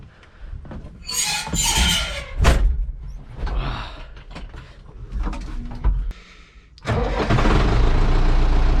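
Ursus 912 tractor engine cranking and catching, then settling into a loud, steady mid-pitched diesel run close by during manure hauling, with brief knocks and clatter before it fires.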